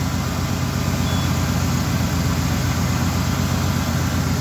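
A 1985 Ford engine with EEC-IV CFI control idles at operating temperature, a steady, even low rumble heard close up without interruption or talk.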